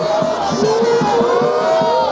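A Congolese wrestling crowd at a 2020 quarter-final bout erupts in a loud uproar, chanting and shouting in rhythmic waves with whistles, close and dense.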